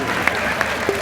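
A live audience at a comedy show claps in a short burst of applause, close and lively, with a few sharper individual claps standing out over a steady crowd wash.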